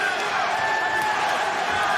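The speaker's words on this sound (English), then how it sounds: "You can hear the French crowd cheering Belay on" A French crowd cheers at a Glory kickboxing fight, a steady roar of voices filling the arena, with commentators talking over it.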